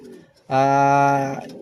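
A single pigeon gives one close, loud, sustained coo lasting nearly a second, rich and throaty, with faint background sound before it.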